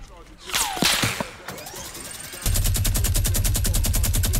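Rapid automatic gunfire in the video game Fortnite, a steady burst of evenly spaced shots running loud through the second half after earlier scattered effects and clatter.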